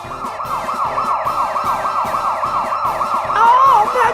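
A loud wailing police siren rising and falling in quick repeated sweeps, close by and continuous, the pitch shifting near the end.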